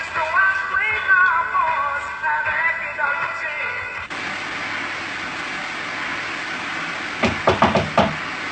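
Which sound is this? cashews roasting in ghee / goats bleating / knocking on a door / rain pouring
knocking on a door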